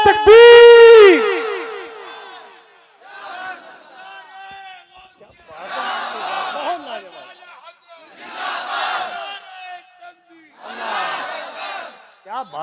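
A crowd at a Ramadan religious gathering shouts takbir back after a leader's loud call, with four swelling group responses spaced a few seconds apart.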